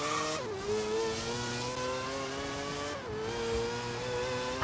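A race car engine revs high and steady in the video game Forza Horizon 3, pitch dropping twice as gears shift, then climbing again, loud and close with a synthetic game-like tone.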